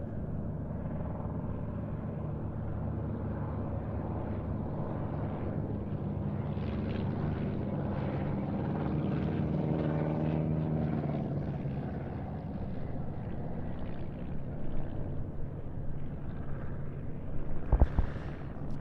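An ERCO Ercoupe two-seat propeller aircraft flying at an air show at IWM Duxford, a steady, moderately loud engine drone that swells slightly midway, with a sharp click near the end.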